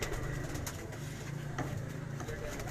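Several pigeons cooing at a rural dera, low repeated coos close by, fairly faint, with a little background noise and a voice briefly in the mix.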